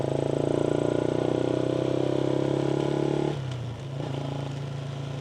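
Modified Honda LC135 motorcycle engine running loud and close, holding a steady throbbing idle-to-midrange drone before the pitch drops and settles into a lower, rougher rumble.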